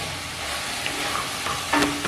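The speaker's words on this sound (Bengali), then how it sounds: "এবার ভাজা ভাজা করে নেব।" Water spinach (kolmi shak) stir-fries in a pan over high flame after its water has cooked off, making a loud continuous sizzle with scraping stir strokes and a couple of sharper clatters near the end.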